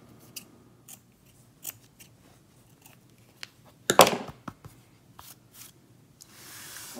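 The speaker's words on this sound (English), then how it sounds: "So now we can go back in and do a more careful trim." Scissors trim the edge of embroidery fabric stretched in a hoop, giving a few quiet, scattered snips with one louder cluster of cutting midway, close up and without talk.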